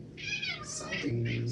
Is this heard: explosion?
no